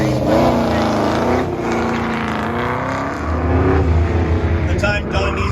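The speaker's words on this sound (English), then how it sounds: "Don Yarbrough on the starting line in his 1955 Chevy 3100. Another 6-liter LS" A 1955 Chevy 3100 pickup with a 6-liter LS V8 and Tremec T56 transmission launching down a drag strip at a car show race, loud engine roar rising through the gears, with a crowd and announcer voice underneath.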